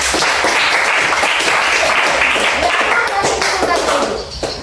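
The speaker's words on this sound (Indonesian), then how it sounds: "Oke, tepuk tangan untuk kita semua." A classroom full of people clapping together, steady and loud for several seconds before tapering off.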